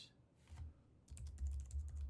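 Fingers type on a computer keyboard to name a track in the Reaper audio software, a short burst of quick, close clicking keystrokes after a couple of isolated taps.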